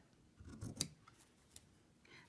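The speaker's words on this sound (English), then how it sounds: "we're just going to trim this batting right up next to the seam line" Scissors snipping through quilt batting along a seam line, a couple of close, soft crisp cuts with one sharper snip, alone in a quiet room.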